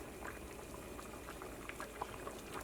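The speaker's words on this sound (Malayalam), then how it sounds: "ഒരു മീഡിയം ഫ്ലെയിമിൽ വെച്ചിട്ട് ഒരു 5 മിനിറ്റും കൂടി സാമ്പാർ ഒന്നുകൂടി ഒന്ന് തിളപ്പിക്കുക" A pot of sambar simmers on a medium flame, giving a faint, steady bubbling and soft hiss throughout, with no talking.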